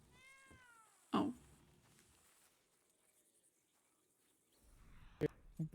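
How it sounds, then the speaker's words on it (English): A house cat gives a short meow near the start, with a brief louder cry about a second in and a few faint sounds near the end, over quiet background. "I think the cat said no."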